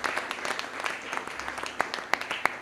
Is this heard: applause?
yes